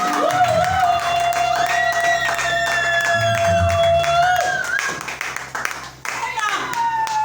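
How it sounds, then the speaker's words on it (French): A church congregation claps for a choir at a morning worship service, brisk dense applause close by that thins out toward the end, with a voice speaking and singing over it. "Pouvons-nous donner encore une slave d'acclamation pour les voix d'archange en cette matinée?"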